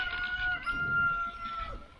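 Rooster crows once in the distance, a faint drawn-out call over quiet outdoor background.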